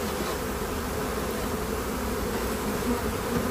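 Honey bees buzz in a dense, steady drone during a hive inspection, close and continuous, many insects humming at once.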